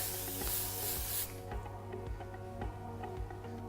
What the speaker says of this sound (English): you might want to just give it a spray at the end just to hold it in place